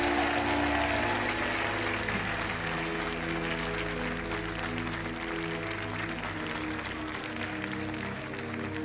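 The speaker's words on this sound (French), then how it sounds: "On vous laisse repartir par là sous les applaudissements" Studio audience applause on the French game show Money Drop, sustained steady clapping with music playing underneath.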